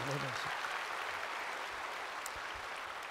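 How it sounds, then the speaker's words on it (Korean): A church congregation claps in support during a Korean sermon, a dense, sustained roar of applause filling the hall with a few louder individual claps and a brief voice at the start. "박수를 하시기를 바랍니다"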